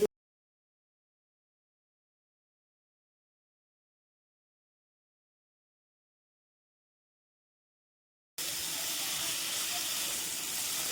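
Water poured into a simmering fresh pond-fish curry in a pan gives a steady hissing rush that starts abruptly after a long silence and fills the last few seconds.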